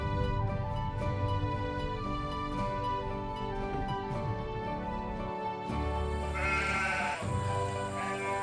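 Sheep bleating beside a single-track road with passing places in the Western Isles of Scotland, calls rising over a steady outdoor background for several seconds.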